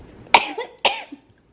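Two sharp, wet coughs in quick succession from a person congested with mucus, close and fairly loud in a quiet room, followed by a faint throaty rasp.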